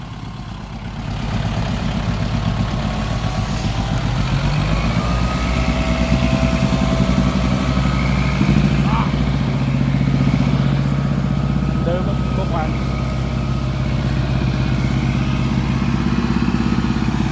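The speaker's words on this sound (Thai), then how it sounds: "เกียร์สองโล รถไถก็รอบเกียร์สองโลนะ" A farm tractor engine in second low gear chugging steadily at low revs, close and loud, with a constant rumbling drone and occasional clanks, a voice talking over it.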